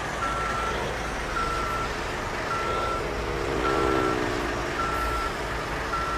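A bus in Bus Simulator Indonesia backs into a parking spot, its reversing alarm beeping in a steady repeating rhythm of about six even tones over a continuous loud engine rumble.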